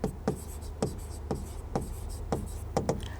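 Pen or marker strokes on a board during a chemistry lesson, a series of sharp scratchy taps in a steady rhythm against a constant low hum, fairly close, with no talking in between.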